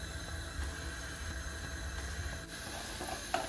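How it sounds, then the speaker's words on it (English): Cumin and fennel seeds sizzle in hot oil in a pan, giving a steady close crackling hiss with a few small pops, no talking over it. "Once they start to sizzle"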